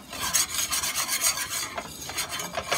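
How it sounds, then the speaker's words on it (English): A whisk scrapes steadily through a roux on an electric range over medium-high heat, giving a continuous close, raspy rubbing with a fairly even rhythm and no voices. "You really have to babysit it and just keep whisking until it's really dark brown"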